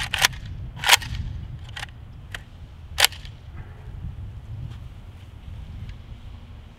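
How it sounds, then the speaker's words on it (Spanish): AK-47 rifle shots fired at targets downrange outdoors, several sharp distant cracks spaced irregularly over steady wind noise, with fainter pops trailing off later. "Le va a estar disparando los blancos allá atrás."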